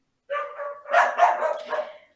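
Several dogs bark nearby in a quick, loud cluster of yips and woofs, briefly overlapping one another, with no voices.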